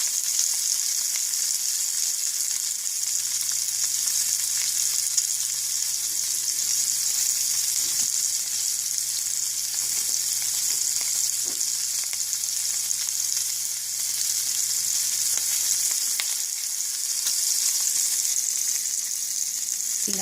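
Pork chops frying in a pan, the fat crisping in a dense, steady crackling sizzle that holds at an even loudness throughout, close and uninterrupted.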